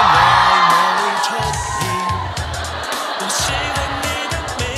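Fans at a concert in Kaohsiung, 2024, whoop and scream in a loud, continuous crowd roar, with chanting and pounding low thuds underneath.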